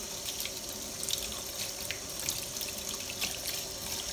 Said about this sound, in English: So to wash it, I rinse it a little bit under lukewarm water.